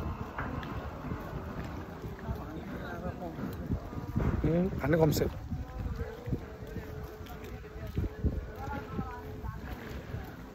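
Strong wind blows across the microphone at an outdoor riverside spot in Lakhai, a steady low buffeting rumble that runs under a person talking throughout.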